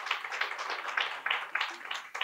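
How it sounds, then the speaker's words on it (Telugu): Audience applause at a press meet of the Telugu Television and Digital Media Musicians Association, a steady crowd of clapping hands with small swells, moderately close and not loud. "ఒకసారి గట్టిగా చప్పట్లు కొట్టండి"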